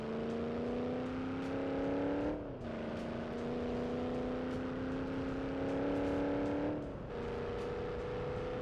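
A second-generation Dodge Ram truck engine in the BeamNG Drive video game hums steadily while driving, its pitch climbing and dropping twice with gear changes, heard on its own without talk.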